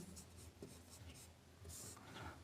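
Pen strokes scrape softly on a page during a maths lesson, short close scratching bursts with brief gaps, faint and alone.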